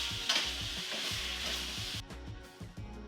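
Potato chunks sizzle and brown in a pot while being stirred, a steady close frying hiss with scraping stir strokes, louder at first and easing slightly near the end.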